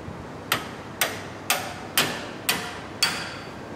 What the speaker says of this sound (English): I can pound the bolt out that way.